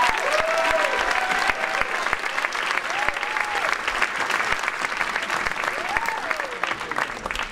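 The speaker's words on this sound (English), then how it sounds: "Applause for Kaylana and Frankie." An audience at a middle school 7th grade winter concert applauds, with dense, steady clapping from a crowded hall throughout and a few voices calling out under it.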